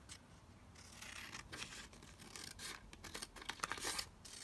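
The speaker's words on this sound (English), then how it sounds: "I'm just going to cut it down here" Scissors trim a paper border for a junk journal pop-up piece, making soft, quiet snipping and rustling sounds close up, with no speech.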